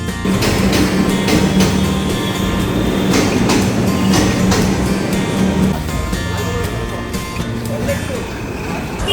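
Steady rumble and rattle of a moving Kolkata metro train heading to Kalighat, heard from inside the carriage, with rhythmic clacks and background chatter throughout.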